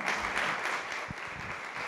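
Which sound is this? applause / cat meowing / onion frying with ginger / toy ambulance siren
applause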